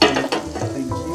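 Butter heating in a pan for pav bhaji, a brief bright sizzle and frying hiss with a soft stirring scrape, close and moderately loud.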